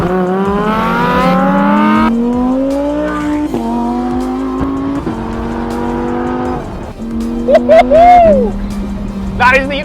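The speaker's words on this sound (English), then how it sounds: "That is the unmistakable sound of a Lamborghini V10." Lamborghini Huracan EVO rear-wheel-drive V10 revving loudly and close, climbing through several sharp gear shifts with brief tire squeals near the end, with talk over it.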